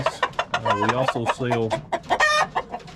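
Wyandotte chickens clucking close by, a run of short throaty calls and cackles from the flock, loud and busy with no talking over them.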